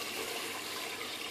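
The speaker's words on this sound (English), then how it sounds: "As the water exits, it exits through the top here," Water draining out through the top of an aquarium filter during a water change, a steady soft rushing and trickling that stays even and fairly quiet throughout, ending in a brief small clunk.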